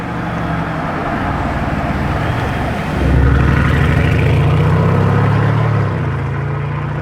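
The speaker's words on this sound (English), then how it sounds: "Take a listen, that has to be a Revuelto, another one." A Lamborghini Revuelto hybrid supercar at the Lamborghini factory, its engine note swelling louder midway and holding as a steady rumble before easing, with background traffic around it.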